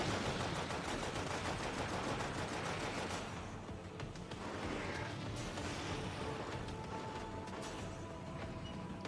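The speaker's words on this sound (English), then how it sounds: "Oh look, incineration cannons." Incineration cannons fire in the video game Halo Spartan Strike as a dense, continuous roar of rapid blasts and crackling explosions that stays loud and unbroken throughout.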